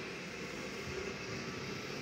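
A car engine runs on display at the Rahmi Koç automobile museum in Istanbul, with its drive belt turning the generator, water pump and cooling fan, making a steady droning hum that holds level from start to finish.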